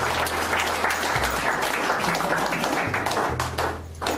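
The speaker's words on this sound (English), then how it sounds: "Actually, Aaron deserves a bit of a round of applause, doesn't he?" Audience applause, a steady close wash of many hands clapping that fades out near the end.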